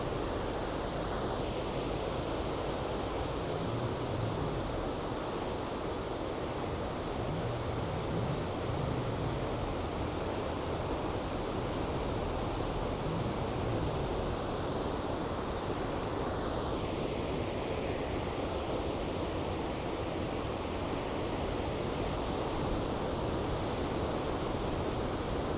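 Waves breaking along the San Francisco shore make a continuous, even roar of surf mixed with wind, with no voices.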